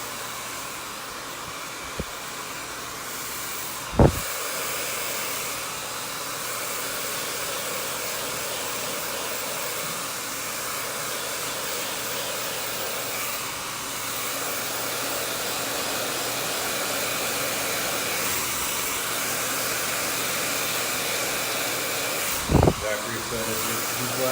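A handheld blow dryer runs steadily throughout while hair is dried and smoothed with a brush during a layered bob haircut, a constant close whooshing drone with a couple of brief knocks.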